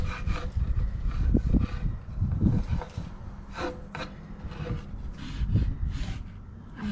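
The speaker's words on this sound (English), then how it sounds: "We're gonna sand all of these so all of your marks are acceptable." Hand sanding of homemade wooden cutting boards, with a steady raspy rubbing of abrasive on wood in repeated strokes, close and moderately loud, with a few brief bumps and no talk.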